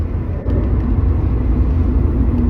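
An Acura RSX engine runs smoothly while driving slowly through heavy traffic, a loud, steady low rumble with road noise from inside the car and no talk.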